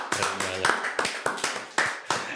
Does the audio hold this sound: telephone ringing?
no